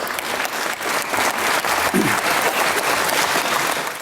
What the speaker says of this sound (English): Jim Chalmers received his sole round of applause during his budget speech for an aspiration